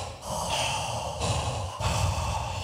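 A voice imitates heavy breathing on a podcast: long, loud, noisy breaths and snorts close to the mic, repeated about three times, with no words between them.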